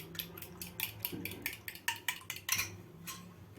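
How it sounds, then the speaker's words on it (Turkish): A fork whisks four cracked eggs in a bowl, giving a quick run of bright clinking taps against the rim, steady and close, with no talking. "Çatalla çırpacağım."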